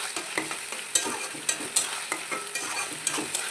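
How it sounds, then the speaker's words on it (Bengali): Ginger, garlic and onion paste fries in oil for chili chicken, a steady close sizzle broken by regular scraping stirs and small crackling pops. "দিয়ে এবার এটাকে একটু ভালো করে কষাতে হবে।"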